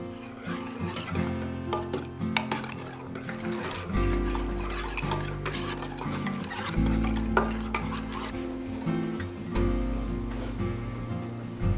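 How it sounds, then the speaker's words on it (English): Saucepan of warming milk mixed with vanilla, pumpkin pie spice and brown sugar being stirred over low heat, a steady scraping swirl with light clinks of the utensil against the pan, continuous and close throughout. "Warm the milk mixture on low heat, stirring frequently until it reaches a gentle simmer."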